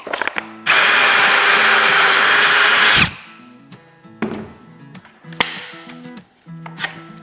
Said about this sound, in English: clamp it down, and you're ready to drill some pocket holes